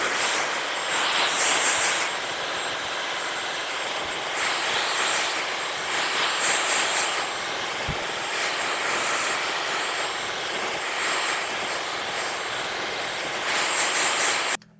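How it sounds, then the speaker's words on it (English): A blow dryer blasts hot air steadily while hair is shaped with a brush for height, a loud, continuous broadband roar that swells and dips slightly as the dryer moves, with no talking. "going to literally use the hot air from the blow dryer and the brush to push my hair into the shape that I want it"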